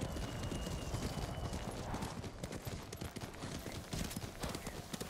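Hooves clip-clop in a quick, steady rhythm under a dense bed of ambient noise, a horse trotting along at moderate distance in the video game Ghost of Tsushima.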